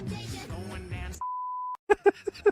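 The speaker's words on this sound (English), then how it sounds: "Oh, it sounds so dumb when he beeps it." A single steady censor beep tone lasting about half a second cuts over a word in a South Park song clip, with sung voice before it and short spoken bursts after.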